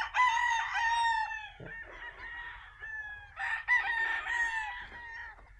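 A white-legged Gilliam roundhead stag rooster crows loud and close, two full crows with a short pause between them, and nothing else is heard.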